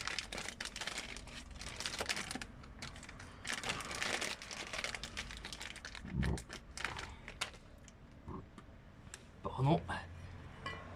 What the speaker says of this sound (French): Tiens, on va ouvrir le paquet, on va voir ce que c'est.